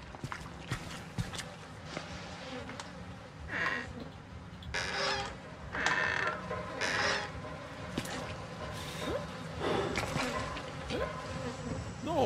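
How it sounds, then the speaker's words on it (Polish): A ventilation fan in the horror game Outlast, set in an asylum, gives a steady buzzing drone throughout, moderately loud, broken by occasional footsteps and brief louder noises. "Wentylator, ja tak słucham, co to za hałas, nie?"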